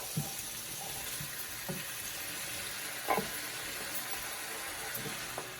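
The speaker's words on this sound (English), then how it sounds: "we're going to try to sweat out these onions a bit" Onions sweating in a pan over medium heat for an Indian butter chicken base, a steady soft sizzle running throughout with a few small clicks and bumps of stirring.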